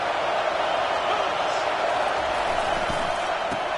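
A large video game stadium crowd roars in a dense, continuous wash of cheering that holds steady throughout, with faint voices mixed in.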